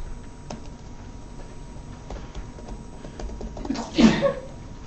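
A single sharp sneeze bursts out near the end of a quiet indoor stretch of faint ticks and background hum.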